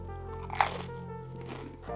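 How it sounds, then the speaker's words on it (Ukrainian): Very hard smoky paprika potato chips from Poland give a loud, close crunch on a single bite, followed by quieter chewing. "Я ще не чув, щоб чіпси настільки сильно хрумтіли."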